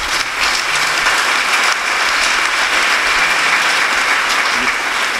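Congregation at a Catholic thanksgiving Mass for pilgrims applauding a priest, a steady, dense wash of clapping from many hands that fills the church for several seconds without a break.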